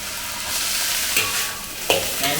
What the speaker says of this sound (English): so I can stir fry over high heat and stir fry only for a short while